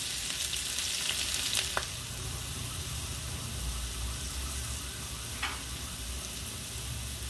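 Chopped leek fries in hot olive oil with a steady, close, dense sizzle, broken by a couple of faint utensil clicks, with no talking.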